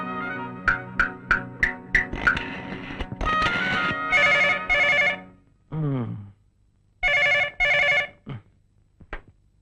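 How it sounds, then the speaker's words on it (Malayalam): A telephone rings after a call is dialed, with a short run of dial tones at the start followed by repeated ring bursts and a brief voice between them. "നീ ഈ ഫോണൊന്ന് വിളി"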